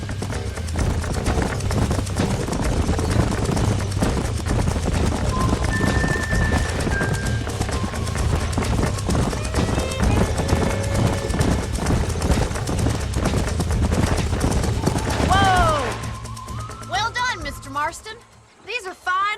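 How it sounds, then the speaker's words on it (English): Horses in Red Dead Redemption clip-clop at a steady run, close and continuous under game music and voices, with a whinny and a sudden drop-off near the end. "These are fine horses."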